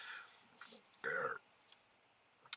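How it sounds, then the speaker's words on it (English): A man's burp after eating a Triple O's chicken sandwich: a single short, guttural belch in the middle, with faint low noises around it and otherwise quiet. "All this burping right now."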